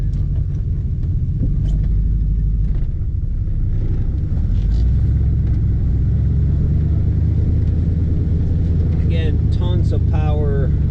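A 1967 Chevrolet Corvette restomod with an L98 engine drives on wet pavement, its engine a steady, loud low rumble throughout, with a voice talking over it.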